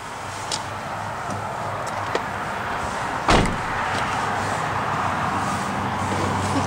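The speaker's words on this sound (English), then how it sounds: "Shut that door." A single solid thump of a door being shut on a 2009 Lexus GX 470 midway through, set against loud gusting wind and faint outdoor ambience, with a few small clicks before it.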